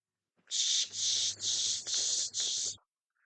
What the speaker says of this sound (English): The cicadas are upset.